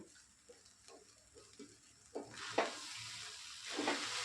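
Poha in a pan is stirred together with fried peanuts, cashews and ground pepper: soft, faint scraping and rustling strokes, growing into louder sizzling scrapes in the last couple of seconds.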